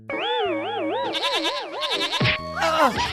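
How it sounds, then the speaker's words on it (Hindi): A cartoon goat from a Hindi magic gift story bleats in a long, warbling, tremulous cry, loud and close, followed by shorter wobbling bleats and springy boing-like effects. "अरे बकरी एक बार हंस देना, हंसना बाबा, क्यों नहीं हंस रही है?"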